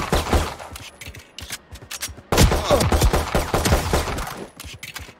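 Rifle gunfire at training bots in the Valorant tutorial, a loud, dense run of rapid sharp shots in bursts with a short pause near the middle, heard alone without talk.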